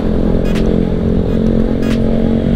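A Yamaha NMAX Turbo scooter being ridden, its engine humming steadily under wind and road noise, close and continuous with a couple of brief rattles.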